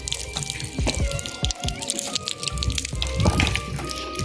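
An outdoor tap at a lakeside spot runs with a continuous splashing flow of water, fairly close and steady, with scattered clatter mixed in.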